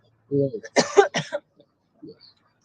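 Harsh, rough coughing bursts from a person smoking, a few close, loud hacks in quick succession, followed by a couple of faint breathy sounds and quiet gaps.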